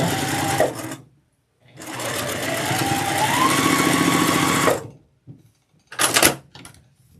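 A sewing machine stitches quilt block seams in fast bursts: a short run, a pause, a long steady whirring run with rising motor pitch, then a brief final burst and clicks.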